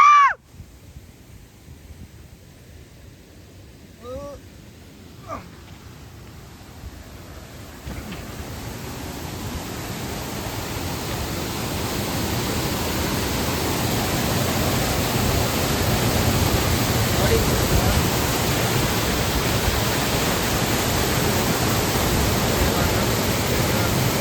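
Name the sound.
Barkana waterfall near Agumbe, water plunging down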